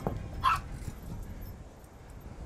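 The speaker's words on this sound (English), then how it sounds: "you always hate to encounter dogs because you never know what they're going to do" A dog gives one short, sharp bark at a distance, with a fainter yelp after it, over low outdoor rumble and background noise.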